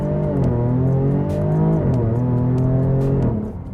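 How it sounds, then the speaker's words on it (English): A Jaguar F-Type V6 S accelerating hard from standstill, its engine revving loud and close with rising pitch through two gear changes before easing off at the end. "Every time I get in a car that makes a good sound, I have to do a quick off-the-line start."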